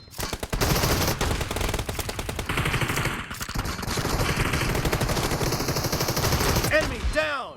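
An M1014 shotgun fires repeatedly in a video game match. The shots come as a dense, loud run of blasts mixed with other gunfire and game voice callouts.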